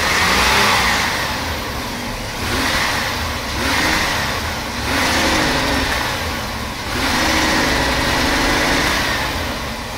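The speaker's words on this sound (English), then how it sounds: "I give it gas." A 1999 Chevy Astro engine revs as it is given gas, rising and falling in several surges over a steady running drone, loud and close with no talking.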